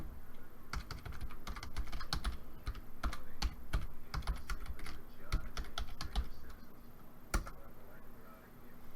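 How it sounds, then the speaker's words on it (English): Typing on a computer keyboard during a live stream: a close, quick, irregular run of crisp key clicks with short pauses, going on steadily for several seconds over a faint steady hum. "Let me see if I can type it in."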